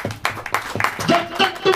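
Hands clap in a church congregation during Hindi preaching, a few sharp irregular claps mixed under a speaking voice, moderately loud and close.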